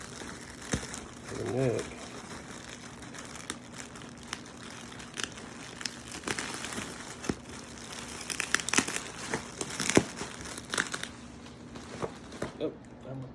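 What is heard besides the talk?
unwrapping tape from a bass guitar neck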